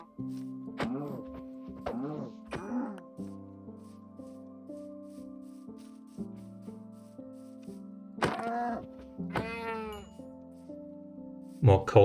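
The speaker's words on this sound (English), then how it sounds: "Sheep, but no cows." Repeated sheep bleats from a Minecraft video game, several short nasal calls in a cluster early on and more later, over steady game background music.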